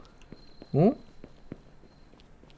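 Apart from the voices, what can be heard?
footsteps of heeled shoes, video game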